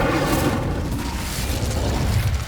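A fire spell cast in Hogwarts Legacy, a loud, dense whooshing burst of flame that roars steadily through the whole moment with deep rumbling body and no voices.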